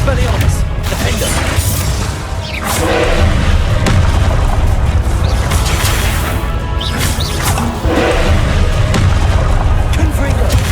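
Confringo fire spell blasts in Hogwarts Legacy, loud booming explosions and crashes repeating through a dense battle mix, with a spell-shouting voice running over the combat.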